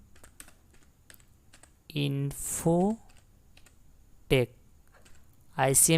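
Quick clicks of a computer keyboard sound in brief bursts with a keypress for enter, while someone talks between them in a Tally Prime accounting software tutorial.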